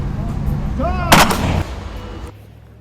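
A rifle is fired at an outdoor range during a gas gun competition stage, a single sharp, loud crack close by against steady background noise.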